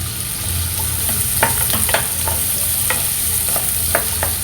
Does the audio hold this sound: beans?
yes